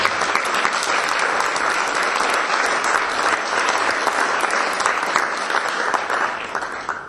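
Sustained applause from a large audience at a Vidovdan ceremonial academy evening in 2022, dense and loud from start to finish before thinning slightly at the end.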